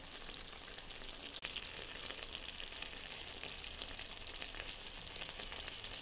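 Fish chorchori made with small amude fish fries in a kadai, a faint, continuous oily sizzle with one sharp click of stirring early on, no voices over it.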